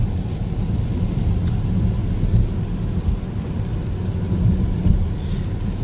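Steady rain falls on a quiet street in Munich, a dense, even hiss with a low rumble throughout and no voices.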